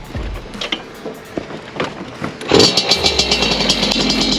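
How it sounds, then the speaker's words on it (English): Stock and 70cc-kitted Puch Maxi mopeds being started, with clattering pull attempts before a small two-stroke engine catches around midway and settles into a close, buzzing idle. "So let's start them up start the engines."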